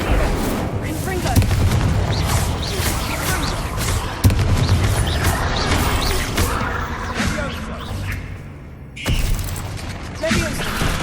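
Repeated fiery spell blasts and booms in the video game Hogwarts Legacy, loud and dense with crackling impacts and crashes in a battle, with game sound layered throughout and a brief quieter dip near the end.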